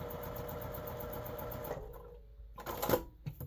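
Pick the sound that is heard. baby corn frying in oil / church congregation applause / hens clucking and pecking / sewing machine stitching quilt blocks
sewing machine stitching quilt blocks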